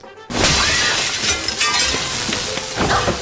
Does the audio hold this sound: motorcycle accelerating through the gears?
no